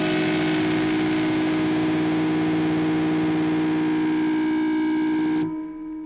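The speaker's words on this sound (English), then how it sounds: "I'm going to add a third pedal and play a complex chord" Electric guitar, a Strat on its neck pickup, strums a complex chord through three stacked distortion pedals, a thick saturated sustain ringing steadily for about five seconds before cutting off abruptly.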